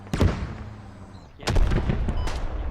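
In the tactical shooter game Squad, a grenade is thrown at a tank. A sharp shot cracks out, then a louder blast and dense gunfire fill the second half.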